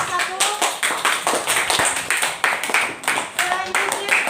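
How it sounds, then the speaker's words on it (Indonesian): Applause from a school class for a student group after a science practical on acids, bases and salts, a steady wash of many hands clapping with a few voices mixed in. "Ya, kita berikan aplaus untuk kelompok 1"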